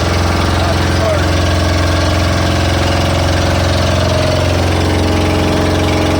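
The engine of a Filipino bangka boat heading to Barangay Busdak drones loudly and steadily at close range, a constant mechanical hum with a faint voice underneath.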